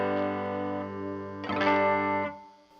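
Electric guitar through a Mesa open-back cabinet loaded with two 10-inch speakers, a sustained chord ringing with a bright strum accent near the middle before fading, moderately quiet and alone.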